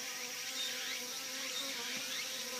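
Japanese honey bees (Apis cerana japonica) buzz at an open hive, a faint, continuous insect drone with steady hum close by and no talking.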